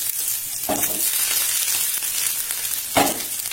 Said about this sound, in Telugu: వెల్లుల్లి కాస్త వేగాలి కదా, వెల్లుల్లి వేస్తున్నాను